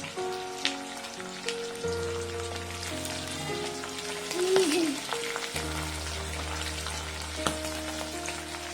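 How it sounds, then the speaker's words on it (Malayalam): Green chillies and curry leaves frying in rice bran oil for a pickle, a continuous crackling sizzle with a low hum and occasional clinks, fairly quiet and steady. "ഇഞ്ചിയും വെളുത്തുള്ളിയും ഇവിടെ മൂത്തിട്ടുണ്ട് എന്നിട്ട് നമുക്ക് പത്ത് പച്ചമുളകും കൂടെ ചീറിട്ടു നമുക്ക് രണ്ട് തൊട്ട് കറിവേപ്പിലയും കൂടെ ഇട്ട് കൊടുക്കാം"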